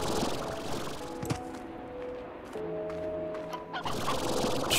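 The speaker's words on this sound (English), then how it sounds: "here's the other painted hens" Painted hens in the video game Slime Rancher cluck in short, fowl-like calls over a steady background of game ambience, moderately loud and close.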